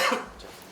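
A person coughs once, a short, close and fairly loud burst that quickly fades into quiet room tone.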